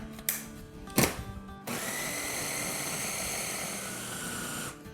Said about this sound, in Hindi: अब इनको ब्लेंड कर लेते हैं।